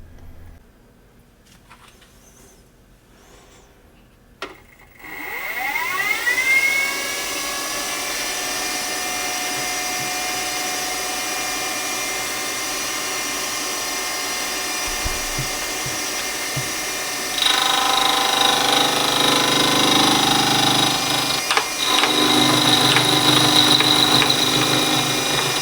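A part is being machined, apparently on a mini lathe: a quiet start, then a motor spins up around five seconds and holds a steady whine, and later a louder, brighter cutting tone joins in until the end.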